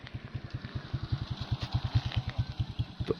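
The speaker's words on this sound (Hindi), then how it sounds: "जैसे ये बाइक वाला आ रहा है" A motorcycle approaches on a road near Mansehra toward Balakot, its engine chugging in a fast, even pulse that stays steady and fairly close throughout, with no talking.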